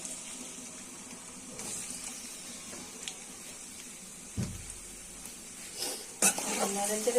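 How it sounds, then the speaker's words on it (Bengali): Spice paste for taki fish fries in hot oil in a pan, a soft continuous sizzle with a few sharp utensil knocks and scrapes, fairly quiet overall. "পেস্টটা ভাজা হয়ে যাবে।"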